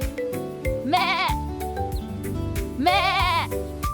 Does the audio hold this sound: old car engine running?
no